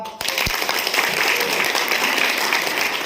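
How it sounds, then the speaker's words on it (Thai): Applause from an audience following a speech at a stage event, a broad sustained rush of many people clapping that swells in after a brief pause and holds steady, fairly loud and unbroken by talk. "ขอเสียงปรบมือ"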